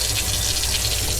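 Water running into a container to mix CalMag plant nutrients for tomatoes and peppers, a steady close hissing gush throughout the brief moment.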